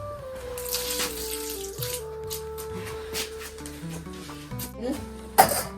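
Fish is rinsed under a running tap in a home kitchen, water splashing and streaming unevenly with clinks and handling noises, while a voice speaks in the background.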